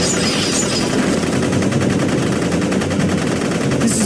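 Rapid, dense automatic gunfire roars continuously and loudly through a Baten Kaitos Origins video game cutscene, a sustained fusillade with no pauses.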